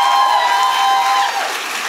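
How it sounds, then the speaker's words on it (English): Loud, dense applause from a comedy show audience, a steady wash of clapping that fills the room and starts to fade near the end. "Give a big round of applause to begin!"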